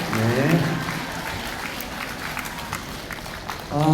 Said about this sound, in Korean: 환영의 박수 한번 보내주시면 좋겠습니다